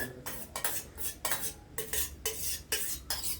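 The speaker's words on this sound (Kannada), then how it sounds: "ಈಗ ಪಲ್ಪ್ ಎಲ್ಲ ಮಿಕ್ಸಿ ಜಾರಿಗೆ ಹಾಕ್ತಾ ಇದ್ದಾಳೆ" Mango pulp being scooped into a mixer jar with a spoon, making close, repeated scraping and clinking against the container in a steady rhythm, with no one speaking.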